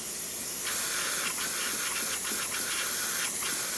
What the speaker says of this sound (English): steam is coming out nicely out of one